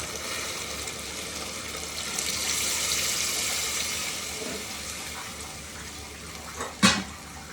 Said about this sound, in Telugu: ఇది ఇంకా బాగా మగ్గడానికి కొంచెం నీళ్ళు అయితే వేసుకుందాం